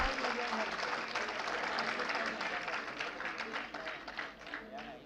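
Audience applause at a school Foundation Day ceremony as a class 10 student is announced in first place, sustained clapping from a crowd that softens slightly toward the end, with speech mixed in.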